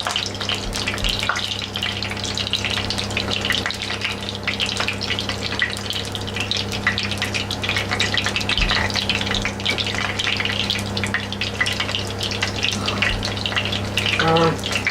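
Corned beef fritters fry two at a time in a pan, giving a steady broadband sizzle and crackle throughout with a low hum beneath and a few faint clinks; no one speaks.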